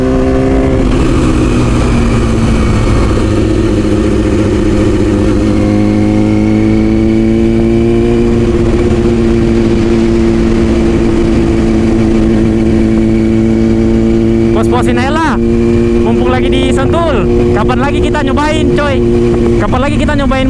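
Big 600cc and 800cc motorcycles racing at the Sentul circuit roar loudly with a sustained engine drone that shifts pitch as they rev, and several sharp passing whines follow near the end.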